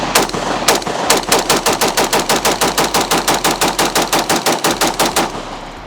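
A 5.56 short-barrel rifle is mag-dumped, with a few quick shots followed by a long, steady string of about thirty loud, close reports in rapid, even cadence.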